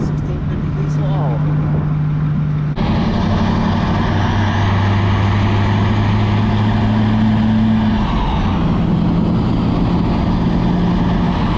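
Tractor engines drone steadily in a field where a New Holland 1032 bale stacker on a 6150 and a New Holland 326 baler on a 1650 diesel are working, a loud low hum with shifting tones, with people talking over it.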